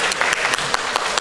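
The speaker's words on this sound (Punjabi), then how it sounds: "ਜ਼ਰਾ ਉਹ ਤਾੜੀਆਂ ਮਾਰੋ।" Brief, dense clapping from a live audience at a Punjabi stage comedy drama, steady and fairly close with a few sharper claps.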